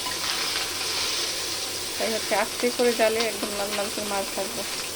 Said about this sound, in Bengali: মাছ ভাজিটা একদম কড়া ভাজা একদম লাল লাল